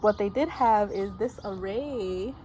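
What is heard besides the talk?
None of the usual background noises is heard.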